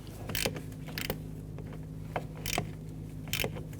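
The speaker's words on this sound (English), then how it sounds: "use our gear wrench to go ahead and loosen these nuts" A gear wrench ratchets while loosening the master cylinder flange nuts on a Nissan Frontier pickup: a handful of short, sharp clicking bursts spaced unevenly over a low steady hum, fairly close and moderately quiet.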